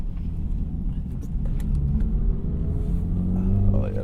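An Acura Integra Type S fitted with an FL5 Civic Type R damper module drives with a deep, steady engine rumble and road noise, rising slightly as it accelerates, while a person talks over it.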